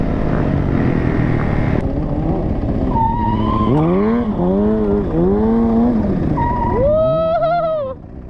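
Dirt bikes, including DRZ and 250 supermotos, race around a lot with quads, their engines loud and close, rising and falling through repeated revving shifts and gear changes.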